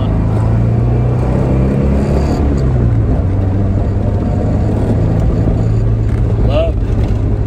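A 1971 Fiat 124 Sport Spider with a five-speed gearbox is driven along, its engine holding a steady, loud hum with road and wind noise throughout and a brief higher whine near the end.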